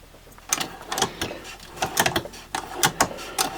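Fujiya pliers wrench ratcheting on a test rig: a series of sharp, irregular metallic clicks, close and fairly loud, with short pauses between them.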